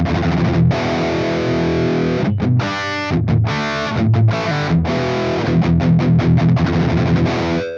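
A high-gain electric guitar riff through an amp with the Tube Screamer distortion pedal bypassed, heavy amp distortion, loud and continuous, with chugging palm-muted chords and brief pauses between phrases.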